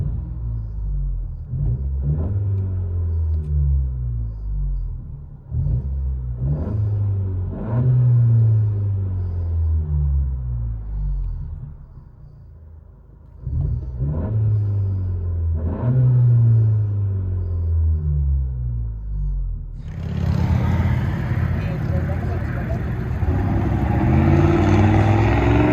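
Ford Crown Vic 4.6L V8 with a modified exhaust, heard from inside the cabin: a deep, loud rumble rising and falling through repeated rev bursts, then swelling into a sustained, harsher roar near the end.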